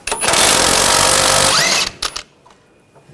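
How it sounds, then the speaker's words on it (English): An 18mm socket on a power tool spins a nut off a front sway bar link on a 2014-2020 Nissan Rogue, giving a loud, sustained whir of about one and a half seconds that winds down, followed by a couple of short clunks. "Using a 18mm socket, take this nut off."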